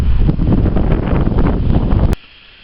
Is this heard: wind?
yes